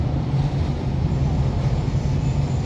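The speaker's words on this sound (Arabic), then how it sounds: "وادي ترام ايه ترام الرمله اهي على يمنا" Raml tram in Alexandria, Egypt rolling past on the right as it heads into a station, a steady, close rumble of rail wheels and car body that holds evenly throughout with no talk over it.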